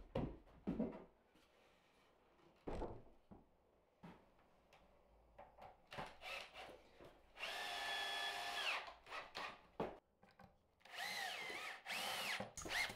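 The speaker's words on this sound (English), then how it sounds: "first I drill some pilot holes in all four of the supports" Power drill boring pilot holes in the wooden supports of an old chair, two close, loud bursts of whining motor separated by quiet clicks, taps and handling noises.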